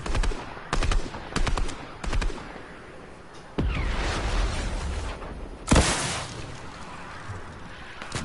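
Gunfire in a shooter video game: several sharp shots in quick succession, then a loud booming blast with rushing, windy background noise, and no one speaking.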